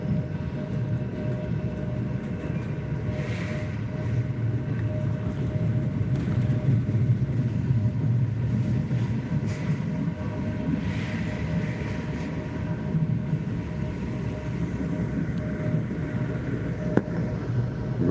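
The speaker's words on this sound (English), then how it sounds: "the train is leaving the station" Steady rumbling train noise from inside a carriage leaving Belgrade's central railway station through a tunnel, a continuous low roar with faint hum and occasional rattles, no voices.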